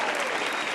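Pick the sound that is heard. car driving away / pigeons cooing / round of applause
round of applause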